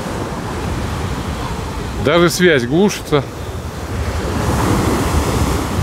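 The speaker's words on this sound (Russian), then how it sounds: "Но море сегодня, конечно, штормит." Stormy sea surf rolls onto a Black Sea beach with a broad, steady roar of waves and wind buffeting the microphone, while someone talks briefly over it in the middle.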